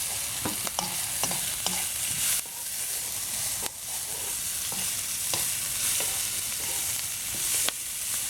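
Green, yellow and red peppers and onions stir-fry for Hunan chicken, with a continuous sizzle broken by repeated clacks and scrapes of a utensil against the pan, moderately loud and close.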